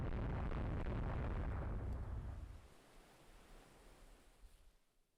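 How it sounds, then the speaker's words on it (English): Naval bombardment of a Stetton class ship in the naval strategy game Rule the Waves 3: a heavy, rumbling barrage of shell blasts that roars loudly for about two seconds, then fades into a distant, low boom and sea-like wash. "So the Stetton class is now being bombarded by the Desays."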